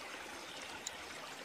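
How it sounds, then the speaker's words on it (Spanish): A small creek runs behind a rural home, giving a soft, continuous watery rush with a steady, faint murmur and no clear breaks. "una pequeña quebrada"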